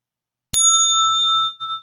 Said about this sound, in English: you haven't used the bell in like a year